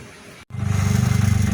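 A motorcycle engine starts up outdoors at a home as it is brought out, settling into a loud, close, pulsing low idle after a brief silence.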